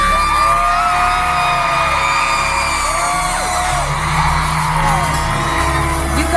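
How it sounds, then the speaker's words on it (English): Concert crowd at a show on a concert tour, screaming, whooping and cheering steadily and loudly throughout, with scattered yells standing out from the mass of voices. "You guys have screamed,"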